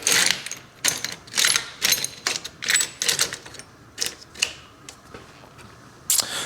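Small metal hardware clattering and rattling as a hand rummages through a parts bin for a 1/4-20 hex bolt during 1974 Harley-Davidson FXE Shovelhead primary drive work, a run of close, uneven clinks and shuffles.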